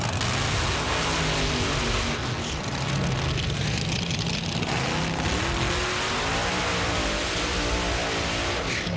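Top Alcohol Dragster at a drag racing final near 277 mph, a loud, continuous roar heard from a distance that stays dense throughout, with crowd and track noise under it.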